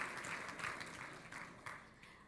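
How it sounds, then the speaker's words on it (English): Audience applause at the Dancing with our Columbus Stars 2022 charity dance event, a steady wash of clapping from a crowd that holds level for a couple of seconds without fading. "So one more round of applause just for the foundation"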